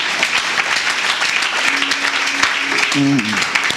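A church congregation claps and cheers for Jesus in a steady burst of applause, loud and dense, with voices calling out over it and a brief sung or spoken tone near the end.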